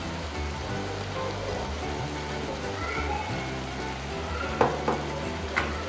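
A mixture sizzles steadily in a hot pan while salt is stirred in, with a few sharp scraping knocks from the spoon toward the end.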